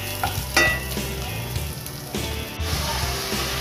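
Chicken tinola vegetables, including sayote, sauté in a hot pan with a close, continuous sizzle and hiss, punctuated by a few sharper stirring bumps and scrapes; no speech.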